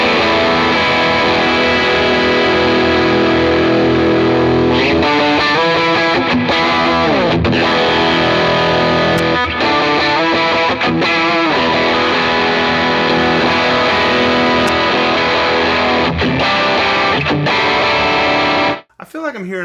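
An electric guitar is driven into overdrive through a real Matchless C-30 amp, playing gritty sustained chords and bending lead phrases loudly and continuously before cutting off abruptly near the end.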